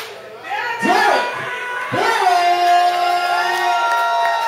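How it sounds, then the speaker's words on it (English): A nightclub drag-show crowd at the F Bar erupts in loud cheering and whooping, with high sustained shouts rising over a dense roar that swells twice and keeps going, near and energetic. "Please give a thunderous round of applause for the one and only"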